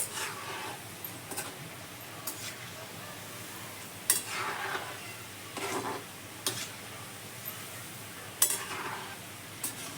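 Shankarpali dough pieces fry in hot ghee while being stirred with a slotted spoon, giving a steady sizzle broken by occasional scraping stirs and light metallic clinks, close and continuous with no talking.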